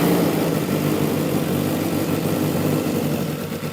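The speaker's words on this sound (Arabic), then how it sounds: "بعد ما بيخلص بيجيب بنزين وبيبدأ يحطه في التانك وبيشغل المحرك، وتعالوا نشوف" A homemade go-kart engine runs at a steady idle just after starting, a loud, close, continuous rumble that holds even throughout before easing slightly at the end, with no voices.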